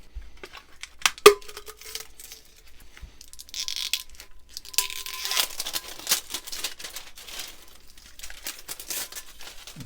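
Shrink wrapping is peeled and torn off a hot sublimated tumbler just out of the oven, giving close, irregular crinkling and ripping bursts with occasional sharp plastic clicks and no speech.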